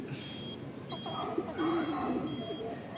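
Racing pigeons coo in a loft, a close, continuous soft burbling that swells partway through, with a thin high tone sounding intermittently above it.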